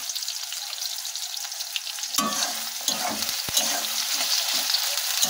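Onions fried with salt for a mutton curry hiss in a steady sizzle that grows busier partway through, as a spoon scrapes and stirs them with sharp clicks and rattles; no voices.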